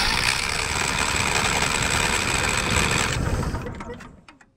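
The engine of a John Deere lawn mower with electrical problems cranks on its starter in a steady, rapid whirring churn for about three seconds before winding down to a stop.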